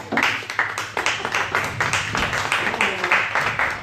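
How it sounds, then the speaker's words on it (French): A small audience claps and applauds at a wine-themed contest event, a dense run of quick, close hand claps that carries on steadily for several seconds, with faint voices underneath. "On peut l'applaudir, oui, oui."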